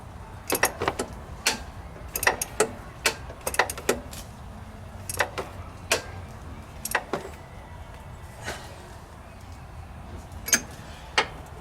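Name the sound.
socket wrench ratcheting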